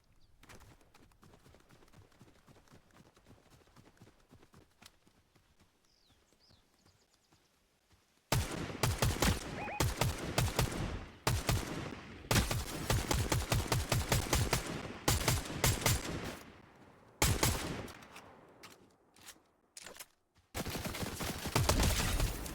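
Rapid gunfire in Fortnite: after a quiet stretch, loud bursts of automatic shots break out in quick repeated volleys, with brief pauses between strings of fire.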